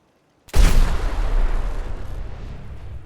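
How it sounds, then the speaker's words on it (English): A shotgun fires in the video game Fallout 4, a single loud, deep blast after a moment of silence, followed by a long rumbling echo that slowly fades. "let's try the shotgun here"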